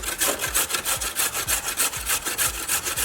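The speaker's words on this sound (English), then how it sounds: "I've got my carrots here, and I'm gonna be grating those up" Carrots are grated on a hand grater in a steady, loud rasping rhythm, about two strokes a second, each scrape sharp and close with no voices.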